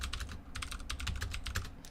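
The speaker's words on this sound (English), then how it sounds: "So listen to that typing." Rapid typing on a computer keyboard, a fast, even stream of sharp key clicks close to the microphone, steady throughout against a faint low hum, with no talking.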